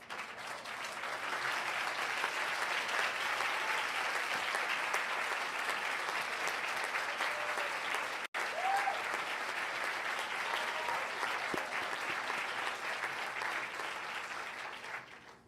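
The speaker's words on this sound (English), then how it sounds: "I'd like to ask each of the graduates to stand and applaud your loved ones, supporters, and teachers for helping you get to this juncture in life." Standing graduates applaud at the 2012 Nicholas School recognition ceremony, a long, steady wash of many hands clapping that holds evenly for about fifteen seconds with a brief break midway.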